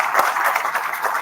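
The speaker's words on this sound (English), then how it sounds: "we cannot really get louder applause for our panelists" Dense, steady applause from a conference audience for panelists at a policy dialogue, many hands clapping at once, close and fairly loud, with no talking over it.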